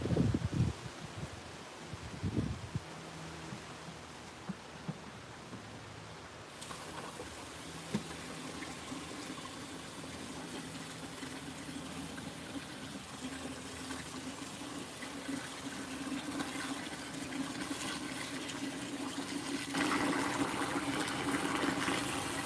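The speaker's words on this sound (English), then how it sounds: "Now I'm going to fill up this container with water." A container is filled with water from a tap for homemade liquid manure in a garden: a steady, hissing rush of running water that continues unbroken and grows slightly fuller and louder toward the end.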